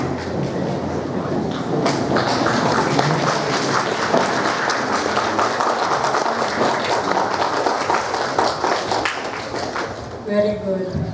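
A crowd at a graduation celebration applauds steadily for about ten seconds, the dense clapping blended with voices and cheering before it fades out near the end.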